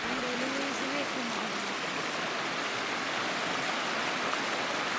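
A mountain stream rushes steadily in a homeland countryside setting, a loud, continuous broadband wash of flowing water with a voice briefly audible underneath.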